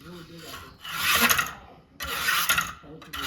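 A kitchen knife blade is drawn through a V-Sharp Warthog sharpener in two close, gritty rasping strokes, each a rough scraping burst separated by a short pause.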